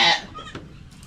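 Young goats on a farm give a short, close bleat that fades into quieter rustling.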